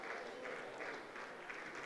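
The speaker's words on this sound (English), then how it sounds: "Please don't stop clapping, please. Keep clapping." A graduation ceremony crowd claps in sustained, dense applause, steady and moderately distant, with no break across the short stretch.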